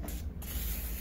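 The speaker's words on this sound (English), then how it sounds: "We're going to spray our cooktop" Olive oil cooking spray hissing from a can onto the cooktop of a George Foreman indoor outdoor grill, a faint close continuous spray lasting about a second with a brief dip midway.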